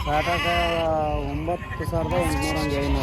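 Sheep and lambs at a weekly morning livestock market bleat loudly and repeatedly nearby, their wavering cries overlapping while someone talks over them.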